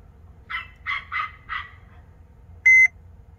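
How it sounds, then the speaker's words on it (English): A single short electronic beep from a Sprinter van dashboard during an oil change light reset rings out clearly after several low muffled clucking or gobbling sounds. "Okay, there's the beep."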